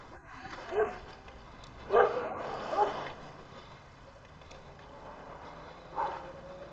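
Dogs at a dog training centre giving a few distant yips and barks spaced several seconds apart, with some whimpering over a quiet, steady outdoor background.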